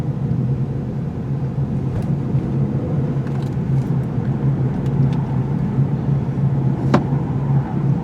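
A 2017 Ford Fusion EcoBoost with all-wheel drive accelerates hard with a little wheel spin, its engine a loud, steady low rumble that holds for several seconds, with a couple of brief sharp ticks.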